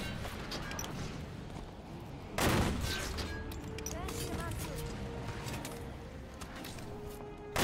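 Gunfire in the video game Halo 5, with a loud sharp shot burst midway amid ongoing game effects and faint chirpy tones, under a quieter mix.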